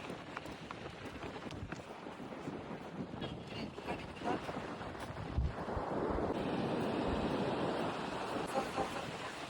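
Waves wash onto a beach on the Konkan coast at Dapoli, a steady roar of surf mixed with wind buffeting the microphone, swelling louder in the second half with no talk over it.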